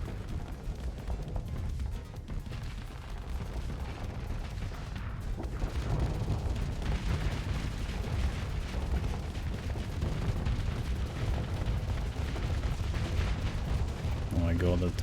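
Torpedo volleys detonate in a Starsector space battle, a thick, sustained barrage of booming blasts and crackling impacts that grows louder midway and keeps rolling, with a brief musical tone near the end.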